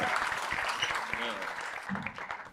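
Audience applause for a comedian at a comedy show, a dense, steady clapping that fills the room and fades slightly, with a voice talking over it.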